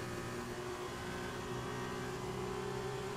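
Formula 2 race car engines from a racing video game at the Bahrain circuit, a steady droning whine of several cars running together down a straight, continuous and fairly loud with no talking.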